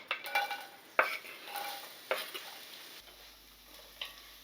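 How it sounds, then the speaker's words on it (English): Onions sautéing in hot oil for pancit lomi, a Filipino chicken noodle soup: a close, steady sizzle with a few sharp stirring scrapes, then quieter. "Going to add our onions, and you're gonna let that saute."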